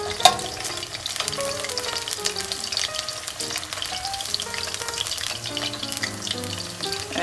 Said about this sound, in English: the hot oil definitely helps it cook faster